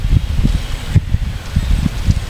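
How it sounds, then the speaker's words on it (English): Wind blows outdoors in gusty, low rumbling buffets against the microphone, pulsing irregularly at a loud level with no voices. "it's very windy out"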